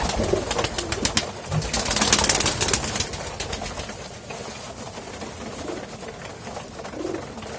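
Male pigeons gather at a feeding tray, their soft low coos rising now and then through a dense, steady hiss of loft noise, with occasional wing flutters.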